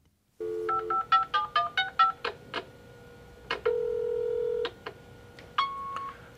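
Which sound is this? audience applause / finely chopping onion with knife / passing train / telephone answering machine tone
telephone answering machine tone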